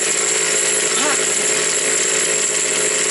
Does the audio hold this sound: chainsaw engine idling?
yes